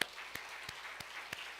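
A church congregation at a Sunday festival worship service claps for God, giving a short, steady wash of applause with rhythmic sharper claps cutting through, distant and reverberant.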